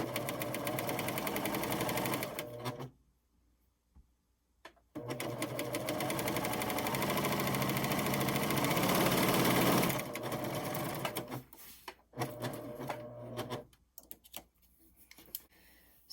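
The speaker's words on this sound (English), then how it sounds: "now we're going to start to sew the edge and the lace all in one go" A Pfaff admire air 7000 sewing machine stitches a folded edge and lace together, running in steady rapid bursts with a brief pause, close and clear with no talk.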